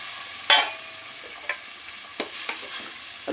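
Chopped tomatoes with salt are added to a hot pan, a faint sizzle under occasional clinks and scrapes of a spoon stirring against the pan, close and intermittent.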